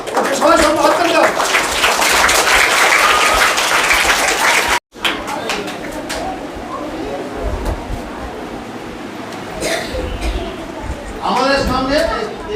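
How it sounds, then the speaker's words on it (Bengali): An audience gives a round of applause at a gathering, a dense burst of clapping, then after a brief break scattered claps mixed with loud talking voices. "সবাই সম্মান হাততালি দাও"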